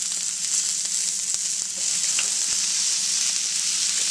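Steak sizzling in melted butter in a pan over medium heat, a steady dense hiss and crackle running unbroken and fairly loud throughout, with a few sharp pops.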